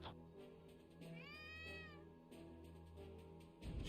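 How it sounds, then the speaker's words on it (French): A cat meows in the video game Gravity Rush, one drawn-out rising and falling meow over a low, steady game music and ambience bed, fairly quiet. "Le chat qui miaule."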